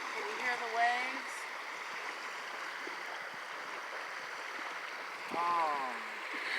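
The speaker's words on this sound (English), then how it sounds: "Can you hear the waves?" A low, constant lapping wash of lake water near the shore runs throughout, quiet and even, with brief bird-like whistles at the start and near the end.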